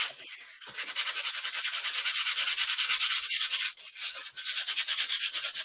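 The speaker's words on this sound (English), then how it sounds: "This is 320 grit, so high grit sandpaper," Rhythmic rubbing strokes of fine 320-grit sandpaper worked by hand over a board covered with rice paper, a close, steady rasping scrub with a brief pause partway through.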